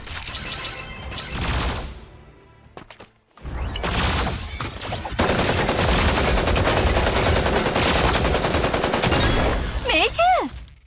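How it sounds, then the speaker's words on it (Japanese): Rapid bursts of gunfire in the video game Super Mecha Champions rattle loudly in dense volleys, with brief pauses, crashes and a whooshing sweep near the end. "銃声が聞こえた気がする。"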